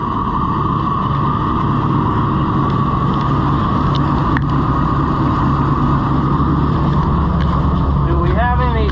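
A cheap old combine harvester with a Chrysler V8 engine runs rough and loud, its belts squalling. A steady engine drone carries a high belt squeal throughout, and a short voice comes near the end.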